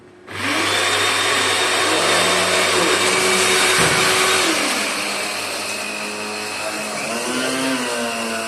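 A mixer grinder whirs loudly and steadily as it grinds coriander and spices. The motor spins up sharply at the start and keeps a sustained, slightly wavering whine.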